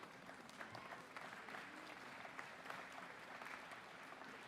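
Steady applause from a large crowd at a university commencement ceremony, dense clapping sustained throughout with no pauses.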